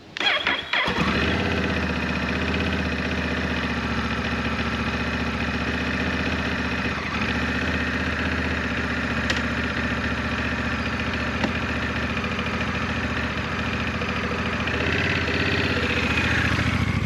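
A Honda Rebel 1100 motorcycle engine cranks and fires, then settles into a steady, loud idle that runs close by and alone for the rest of the span.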